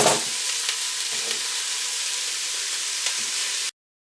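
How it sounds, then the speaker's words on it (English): Onions with salt sizzling steadily in a pressure cooker, a continuous close frying hiss with faint stirring scrapes, then cutting off abruptly. "Let's take about 5 minutes or so to brown the onions."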